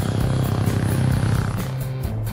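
An unmanned military surveillance helicopter gives a loud, steady, throbbing rotor and engine drone, with rapid regular blade pulses and no voices.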